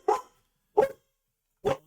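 A dog barks three times in sharp, evenly spaced single barks, close and loud, with silence between them and no talk.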